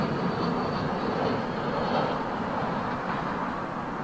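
A Finnair Airbus A321 jet at London Heathrow Airport gives a steady, broadband engine roar that holds at an even level from start to finish, with no voices.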